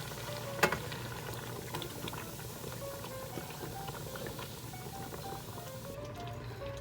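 A pot of homemade marinara sauce simmers and bubbles with a soft liquid patter while it is stirred, a faint, steady burbling with a sharp clink of a utensil early on.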